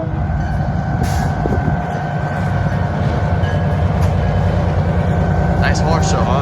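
Train rolling past at a Lake Avenue grade crossing in Blasdell, New York, a steady loud rumble of rail cars with clattering wheels, close and continuous, with a brief horn-like tone near the end.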